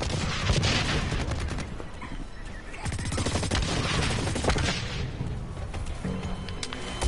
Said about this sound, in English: that's machine gun, huh?